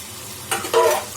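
Masala frying and being stirred in a chicken biryani pot, a short burst of sizzling that swells after a quiet start and holds for a moment, close and moderately loud.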